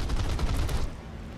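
Aircraft guns on a P-38 fire in War Thunder, a rapid, dense burst of automatic shots lasting under a second before trailing off into a fading rumble.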